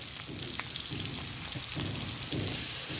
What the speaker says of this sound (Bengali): একটা পেঁয়াজ দিয়ে দিলাম দিয়ে দিলাম এবার ভালো করে ভেজে নেবো